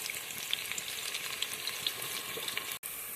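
Garlic frying in oil with browned onion in a pan for Maharashtrian masale bhat, a steady close sizzle dotted with small pops and crackles, ending with a brief clatter.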